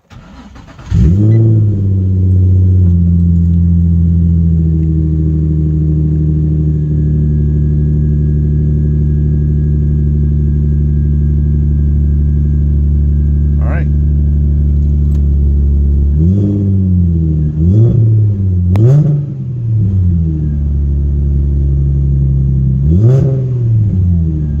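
A Nissan 350Z with a Z1 Motorsports Y-pipe exhaust starts and idles at a loud, close drone. Several sharp throttle blips rev it up and back down near the end.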